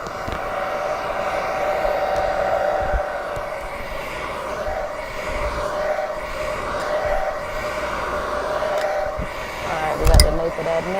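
Handheld hair dryer blowing steadily during an at-home hair care session, a constant loud whir with a steady hum that runs throughout, plus a brief clunk near the end.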